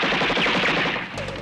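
Rapid machine gun fire from a TV action scene, loud and dense for over a second, easing slightly near the end.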